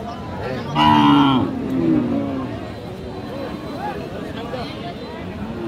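A cow gives a loud, drawn-out moo close by, followed by a shorter call, amid a busy crowd of murmuring voices and bustle at Aftabganj cattle market in Dinajpur.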